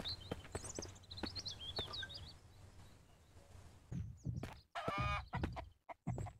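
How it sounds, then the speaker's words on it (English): A chicken in the video game Mist Survival clucks and squawks in a run of high, scratchy calls, followed by scattered thumps and clattering knocks, fairly faint with no talk. "Did I just hear a chicken?"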